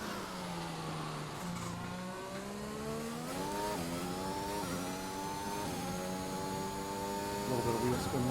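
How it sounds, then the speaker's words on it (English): A race car engine in a racing video game revs through rising and falling gear pitches with some wheel spin, a steady mid-pitched whine that climbs, drops and climbs again. A commentator talks quietly underneath. "A little bit of wheel spin there."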